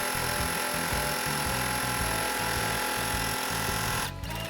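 A sewing machine stitches ribbon down around a window trim, running loud and close in a steady rapid mechanical chatter that stops abruptly near the end.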